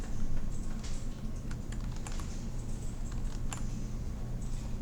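Computer keyboard shortcut keys being pressed, several crisp clicking taps spread irregularly over a steady low background hum, close and moderately quiet, without talking.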